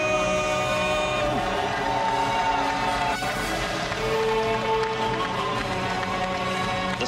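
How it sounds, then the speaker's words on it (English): A large crowd at the StarCraft 2 WCS Global Finals 2015 roars and cheers continuously, a dense wall of voices mixed with amplified music from a sound system. "The sound system and the thunder of the crowd"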